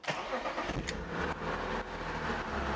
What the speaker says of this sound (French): je vais vous faire écouter un petit peu le son de cette voiture aussi. 6 cylindres en ligne BMW.